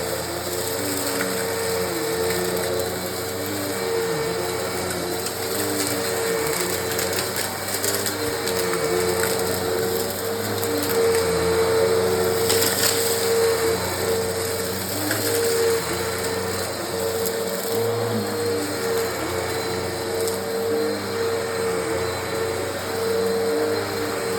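A Eureka Uno 2997-BVZ upright vacuum cleaner grooming carpet runs nonstop, its steady motor whine layered with constant grinding, rattling brush noise, loud and close.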